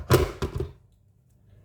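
A couple of solid thunks close by as a kettle is set down on a hard surface, followed by near silence.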